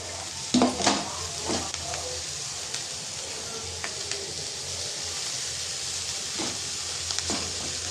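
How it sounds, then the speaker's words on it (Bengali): Boiled chow mein noodles are stirred into fried vegetables in a pan, with a steady sizzle under occasional scraping clinks of a utensil against the pan. "যে চাউটা আমি সেদ্ধ করে রেখেছিলাম সেটাই সবজিটার মধ্যে দিয়ে দেবো"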